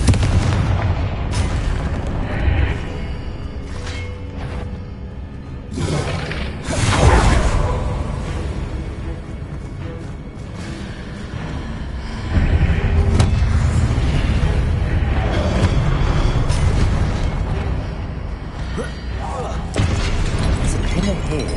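Fire spells in Hogwarts Legacy burst with booming explosions and whooshes, several loud blasts amid ongoing game sounds, while a player speaks over the action.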